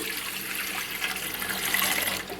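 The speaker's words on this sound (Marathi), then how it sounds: "त्या पातील्यामध्ये साधारण एक ग्लास पाणी आपण टाकून घेऊया" A glass of water poured into a metal pot in a home kitchen while making rava dhokla, a steady, close splashing pour lasting a couple of seconds.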